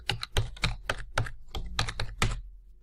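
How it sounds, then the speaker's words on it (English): Keys clatter on a computer keyboard as a web address is typed, about ten crisp, close keystrokes in an uneven quick rhythm, alone and fairly quiet. "In the address bar, type lanecc.edu"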